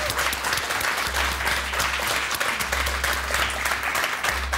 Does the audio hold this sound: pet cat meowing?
no